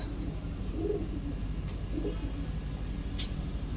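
Soft, low cooing of Madrasi pigeons in Odisha, including a female, two brief calls over a steady background hum, fairly faint and somewhat distant.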